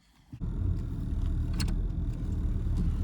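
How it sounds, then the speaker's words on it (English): A BMW E32 7 Series is driven slowly around a car park. After a brief quiet moment and a small click, a steady low engine and road rumble starts and holds close and loud. "I'm just going to move the car out and just drive it around the car park a little bit"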